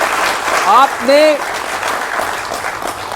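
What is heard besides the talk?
audience applause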